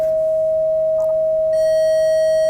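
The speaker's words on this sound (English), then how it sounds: "This is the sine wave." A sine wave test tone holds one steady, pure pitch at an even level, then turns brighter and slightly buzzier partway through as overtones join it.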